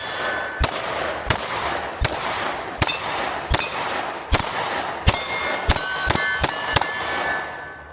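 Shield X pistol fired in about a dozen sharp, loud shots at an uneven rhythm, each a crisp crack with a ringing metallic tail, close by and with no talk.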